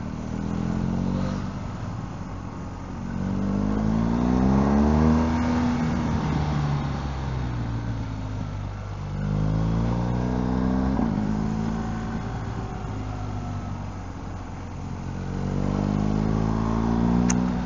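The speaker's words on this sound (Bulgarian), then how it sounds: "пъргав мотор. V-образен, двойка. 1200, 120 коня" A 1200cc V-twin motorcycle with about 120 horsepower revs in rising and falling sweeps on the Jaufen Pass (Passo Giovo), its engine note climbing and dropping several times, loud and close throughout.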